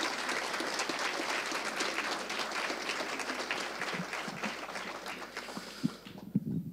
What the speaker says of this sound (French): je voudrais qu'on les applaudisse, on les remercie